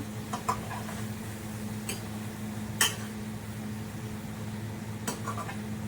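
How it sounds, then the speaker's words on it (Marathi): Ginger, garlic, tomatoes and homemade masala sautéed in a pot outdoors on a farm, giving a faint sizzle under a low steady hum, with a few sharp clinks and scrapes of a utensil against the pot. "आता जर टाकले दोन टमाटे आपला घरचा मसाला टाकला आणि मस्त पैकी आता परतून घेतल्या"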